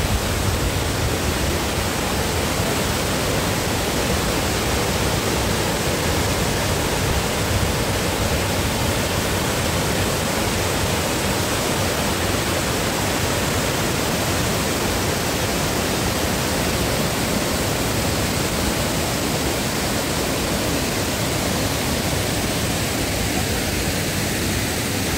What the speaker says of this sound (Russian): Как хорошо здесь у водопада, так вот свежо сразу.